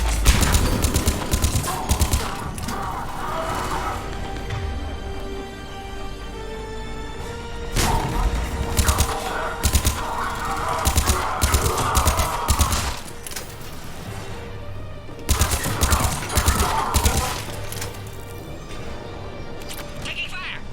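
Gunfire in Mass Effect 3, bursts of rapid automatic shots in several clusters, loud and close, mixed with mechanical clatter and spoken lines over the fighting.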